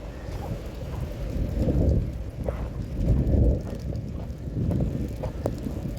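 Heavy rain pounds down during flooding, a steady low rushing roar that swells and eases in gusts, with wind buffeting the microphone and no voices.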